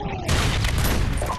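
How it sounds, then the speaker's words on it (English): A Predator missile exploding in Modern Warfare 2, a sudden loud, close blast with a dense rumbling tail lasting about a second. "Friendly Predator missile inbound."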